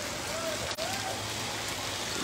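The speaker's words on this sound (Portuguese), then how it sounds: "fazendo este registro de uma bela chuva na cidade de Varjota" Heavy rain falls at night on a town avenue in Varjota, Ceará, Brazil: a dense, continuous hiss of rain on surfaces, steady and close.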